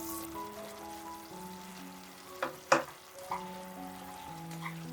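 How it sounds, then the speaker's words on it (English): Chicken wings simmer and sizzle in sweet and sour sauce in a pan, with a steady soft bubbling hiss and a few louder scraping strokes of stirring near the middle. "Continue to cook and continue to stir in regular intervals until they are well coated with the sauce."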